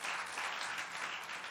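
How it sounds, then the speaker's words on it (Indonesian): A church audience claps together in a brief, dense burst of steady applause, moderately distant and even throughout. "Sekali lagi beri tepuk tangan buat Tuhan Yesus."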